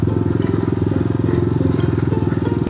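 Trail motorcycle engine idling and revving steadily up close on a rough mine trail ride, a continuous rumbling throb with no break.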